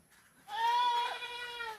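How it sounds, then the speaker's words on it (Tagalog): One drawn-out goat bleat, wavering and nasal, rises from a quiet background and trails off after about a second. "Ang ingay ng kambing."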